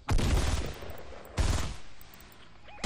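Heavy machine gun in a Fortnite fan game fires two loud sustained bursts, the first about a second long, the second after a short pause, each trailing off. No one speaks.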